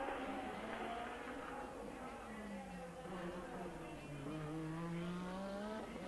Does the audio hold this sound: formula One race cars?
yes